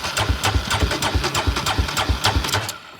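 A cold quad bike engine catches and settles into a fast, steady idle, its loud rhythmic chugging pulsing evenly and close up with no talking.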